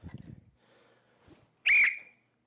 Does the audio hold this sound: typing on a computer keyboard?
no